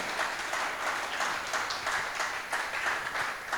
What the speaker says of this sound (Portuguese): Você pode dar uma glória a Deus e aplaudir Jesus bem forte?